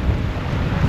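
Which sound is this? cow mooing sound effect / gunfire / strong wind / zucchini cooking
strong wind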